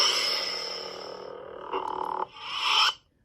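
A Saberforms Neopixel lightsaber plays its Butcher sound font: a close, loud electronic hum and buzz that holds steady, surges briefly, then swells and cuts off to silence.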